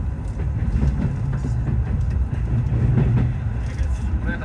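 Tokyu express train on the line toward Oimachi, running steadily on rails near a station with a continuous low rumble and faint clatter of wheels throughout.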